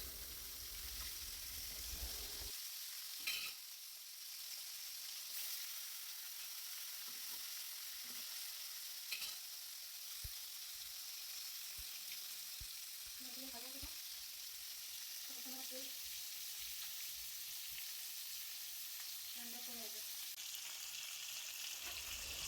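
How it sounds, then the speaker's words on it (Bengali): Koi fish fry in hot oil with a soft, steady sizzle that holds throughout, and a few utensil taps and stirring noises sound close by. "এদিকে তেল গরম হয়ে গেছে, মাছগুলো একে একে আমি ভাজার জন্য দিয়ে দিলাম।"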